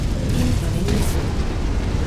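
In a mech combat video game, a destroyed target blows up in a deep, rumbling blast that fills the moment with low booming noise and a brief crackling burst near the middle.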